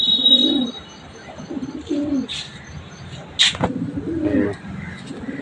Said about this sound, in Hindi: किसी घर में अंदर घुसने की कोशिश कर रही है कबूतरी